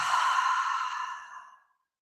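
A single long breath pushed out through the mouth, a breathy sigh-like exhale that starts strong and fades away to silence.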